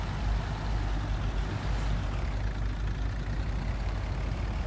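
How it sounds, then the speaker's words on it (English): A DAF truck engine in the video game Construction Simulator rumbles steadily at low pitch, loud and close, with a brief hiss of air partway through and no speech. "I'm sure this is what the DAF sound like, the engine sounds"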